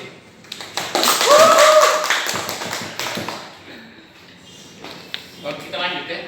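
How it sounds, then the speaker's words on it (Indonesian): Audience applause at an Indonesian classroom or training session, a burst of clapping building over a couple of seconds and fading, with voices and a loud whoop over it before calmer talk returns. "Tepuk tangan untuk dia dulu."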